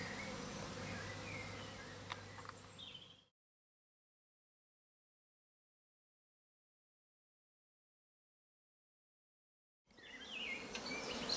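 Dense buzzing of many honey bees up close, cutting out into silence for several seconds before the busy hum returns.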